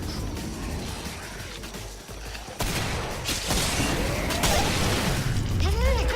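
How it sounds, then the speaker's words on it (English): Rapid gunfire in the game Killing Floor, a sustained volley of shots with sharper bursts in the second half, heard at moderate loudness over a busy, noisy combat backdrop. "I just shoot in that direction."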